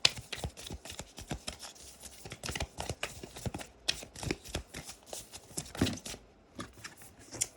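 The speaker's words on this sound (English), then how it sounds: "Let me pull another card for you." Tarot cards are shuffled in a rapid run of crisp, papery riffles and flicks, close and clear, with short pauses before a single card is pulled near the end.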